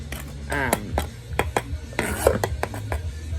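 The back of a knife scrapes chopped olives across a cutting board, a series of short rasping strokes and light taps close by, irregular in rhythm, with faint background sounds.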